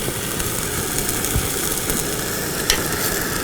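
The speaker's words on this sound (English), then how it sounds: "So we'll stir that all in." Sloppy joe mixture with green chilies and tomatoes is stirred in a pan over a continuous loud sizzle, with scraping strokes and a couple of sharper clinks of the utensil.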